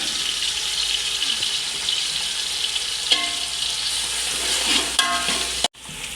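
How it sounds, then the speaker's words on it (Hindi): Onions frying in a pan on a stove, giving a steady broadband sizzle with occasional clinks and scrapes of stirring; no one speaks. "इत्थे हुण प्याज़ां करदे हैं फ्राई"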